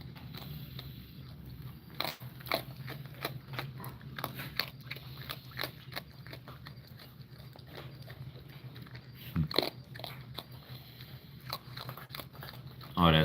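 A raccoon crunching dry puppy chow, with scattered sharp crunchy bites and chewing over a low background hum, and someone talking now and then.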